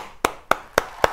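A church congregation at a New Year blessing service claps in unison: four sharp, evenly spaced claps in quick rhythm, close and clear.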